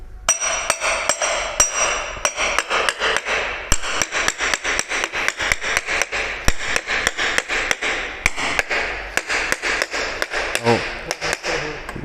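A hammer strikes a block of wood laid against the hub motor of a Protos electric kick scooter, a long run of sharp, close, rhythmic knocks, quick and fairly regular.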